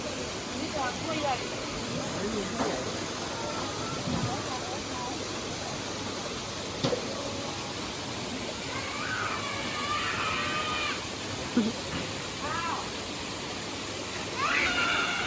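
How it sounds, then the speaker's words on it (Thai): Steady rushing water roars continuously from a nearby waterfall, with faint voices and brief chirps scattered over the broadband wash. "ก็น้ำตกข้างๆนะเสียงน้ำตก"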